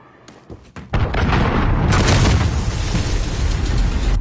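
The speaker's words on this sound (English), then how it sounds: "Missile incoming." A missile explodes in a military video game: a sudden heavy boom after a near-silent start, swelling into a loud, sustained roar and rumble that fills the rest of the clip.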